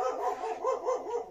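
A dog barks several times in quick succession nearby, in a home garage setting during a Honda CD175 motorcycle fork seal replacement, the barks loud and clear with no talking over them.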